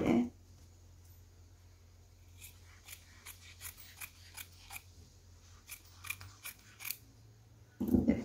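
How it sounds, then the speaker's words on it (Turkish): Fabric scissors snip away excess material while finishing a summer crossbody bag made with crochet lace and boro-sashiko patchwork; a quick series of close, crisp cuts in a quiet room, with louder handling noise at the start and end. "fazlalığını keseceğim."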